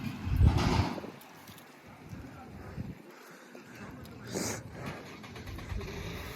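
A red 1989 Jeep Wrangler YJ with a rotted frame drives off, its engine rumbling briefly and fading under wind noise, while a voice talks over it.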